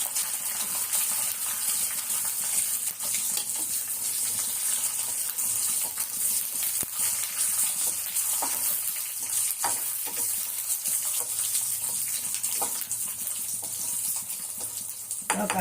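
Cumin seeds with chana dal and urad dal fry in hot oil as a tempering, giving a continuous dense hiss and sizzle throughout, broken by occasional small pops and clicks.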